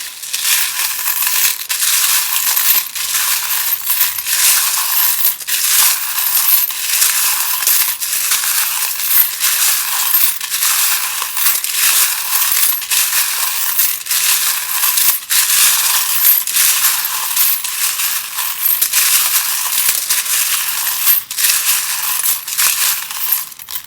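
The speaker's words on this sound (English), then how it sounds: "these are mainly metal charms. They can be very loud when I shuffle them." Continuous loud jangling and clinking of small metal charms being shuffled together for a charm reading, a dense bright rattle that goes on without pause.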